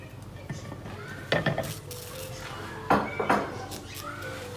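One and a half chopped onions are tipped into a cooking pot for fried daal maash, with two clusters of metallic clinks and scrapes against the pot over a quiet kitchen background.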